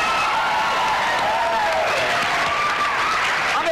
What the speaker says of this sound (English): Look at the claps.